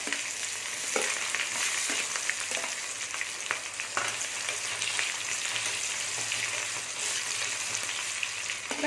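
Small shallots and dried red chillies sizzling steadily in hot oil in a pan, a continuous close hiss with faint stirring scrapes now and then and no voices.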